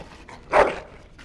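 A dog in the fantasy role-playing game Dragon Age Origins lets out one sharp, fairly loud bark in the middle of a quiet stretch, with faint ambience before and after.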